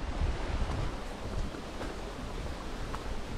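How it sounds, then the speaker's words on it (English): Breeze blowing along a creek in the Val Vertova canyon near Bergamo, Italy, a continuous broadband rush of wind and flowing water, fairly close and steady, with no voices. "there's a nice little breeze coming off this creek down here."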